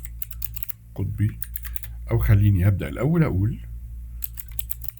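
Computer keyboard keys clatter in quick bursts while a prompt is typed, close by, stopping while someone speaks in between.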